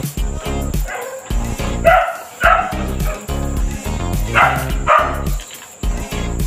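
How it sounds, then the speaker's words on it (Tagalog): A dog at a nearby house barks repeatedly in loud, choppy bursts mixed with yips, fairly close and persistent across several seconds, with faint background noise. "Tumataho lang aso sa kanilang bahay."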